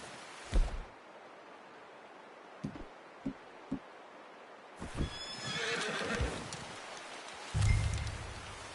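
A video game horse whinnies and snorts close by, with a few scattered hoof thuds and soft rustling around it.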